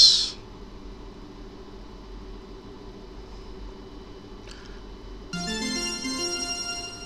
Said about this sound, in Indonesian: sebenarnya ada bunyi notifikasi di HP yang kedua